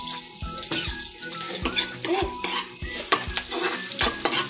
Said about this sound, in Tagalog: Halo-haloin lang po natin kasi mainit na mainit po yung kawali kanina.